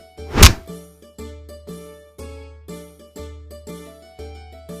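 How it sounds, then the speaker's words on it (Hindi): Cartoon beating effects as villagers gang up and hit two men: one sharp loud whack, then a regular series of hollow thunks about twice a second, each with a short ringing tail, and no voices. "सब मिलकर उन दोनों को खूब पीटे।"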